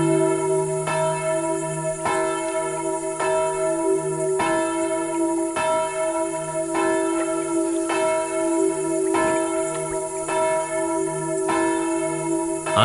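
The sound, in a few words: church bell ringing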